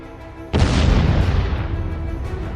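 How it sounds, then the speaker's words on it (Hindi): The 150 kg warhead of an Arash drone detonates in one sudden, heavy boom, followed by a long rumbling decay that fades slowly over a couple of seconds. "150 किलो वॉरहेड के साथ इसका धमाका किसी भी टारगेट को तबाह कर सकता है।"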